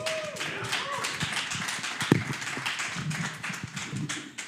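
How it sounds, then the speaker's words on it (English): A meetup audience claps steadily throughout, a dense patter of hands with occasional voices mixed in. "round of applause for these gentlemen"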